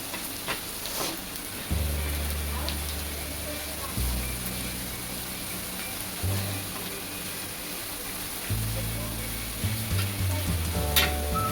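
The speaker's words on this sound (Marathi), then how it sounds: "आपण मिरची आणि लसूण चांगला परतून घेऊ कांद्याबरोबर" Green chili and garlic sautéing with onion in a pan, loud sizzling that swells in bursts as the pan is stirred, with a softer crackle between, close and continuous.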